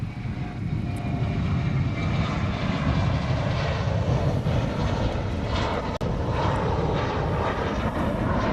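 Hawaiian Airlines airliner departing Honolulu airport, a loud, steady engine roar close by that holds throughout with no voices.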